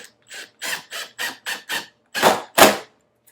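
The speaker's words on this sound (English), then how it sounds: "I will sink 1 more screw just to keep this panel on the wall." A screw is driven into a bath and shower surround panel during dry fit, giving a string of short, evenly spaced ratcheting whirs from a driver, followed by two louder, longer bursts as it seats.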